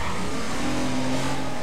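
A car in Watch Dogs drives and revs, its engine droning steadily with a low, rising tone under dense road and tire noise, close and continuous.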